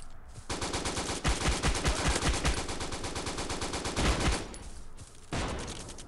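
Rapid sustained machine-gun fire from a Lewis gun in the shooter game Bullet Force, loud and continuous bursts with brief pauses near four and five seconds, no voice over it.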